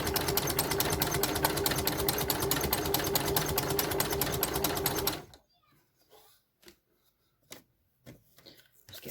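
A sewing machine runs steadily for about five seconds doing zigzag stitching with a flower stitch foot, a fast even mechanical rattle that then stops, followed by a few faint taps and handling noises.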